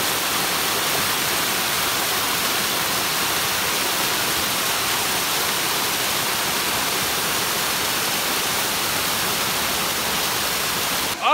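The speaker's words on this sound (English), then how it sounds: "Look at this waterfall." A waterfall roars as a steady, loud wash of broadband rushing water, with no talk heard over it.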